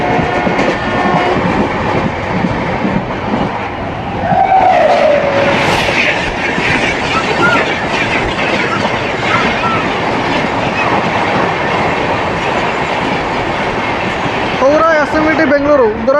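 The Dhauli Express, a Puri–Howrah train, runs on rails with a loud, continuous rumble and rhythmic clickety-clack, with occasional squealing tones from the wheels.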